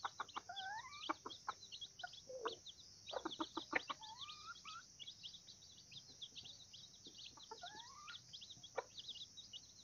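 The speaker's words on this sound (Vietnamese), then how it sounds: "đây là gà đúc các bạn nhá" A mini Vietnamese golden-hackle breeding rooster of jungle-fowl type clucks in a run of short, rising calls, fairly close, over a steady high whine of insects.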